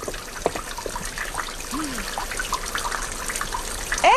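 Water runs and splashes steadily like a tap or basin being filled, close and continuous, with faint scattered clinks and a brighter surge at the end.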